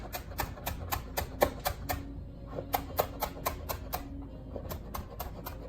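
A knife finely chops fresh garden chives on a board for potato salad, with rapid, even clusters of crisp taps in three quick bursts, close and clear.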